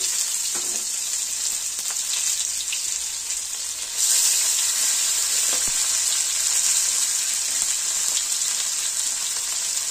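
Chopped onion, bay leaf and whole garam masala frying in hot oil in a pan, a loud continuous sizzle that swells after a few seconds, with occasional stirring and no talking.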